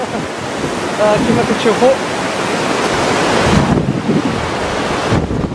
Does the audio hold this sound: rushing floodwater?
yes